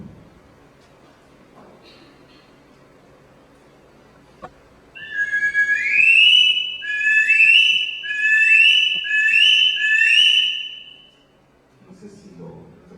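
An ancient Mexican resonator whistle imitates bird calls: after a quiet stretch it blows a series of loud, bright, warbling chirps in repeated bursts for several seconds, then falls silent with faint background noise.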